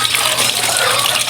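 Rusty, cloudy water gushes from a hand pump in a strong, steady, splashing rush, loud and close.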